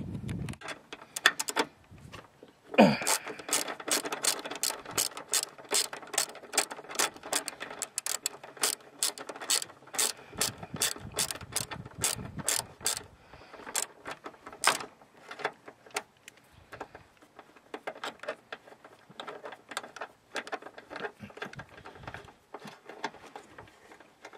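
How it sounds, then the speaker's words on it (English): A ratchet with a 10mm socket and double extension works a 10mm bolt loose from the power steering fluid reservoir of a 1999-2002 Honda Accord V6, with rapid bursts of close clicking and pauses between strokes. "With a 10mm and a double extension, we're going to remove the 10mm bolt that holds down the power steering fluid reservoir"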